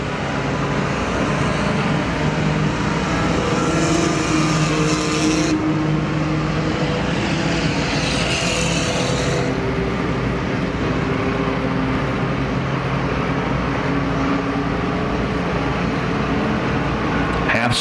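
IMCA Sport Compact race cars running a main event at Perris Auto Speedway, a dirt oval, with steady engine roar and road noise throughout and an announcer talking over it.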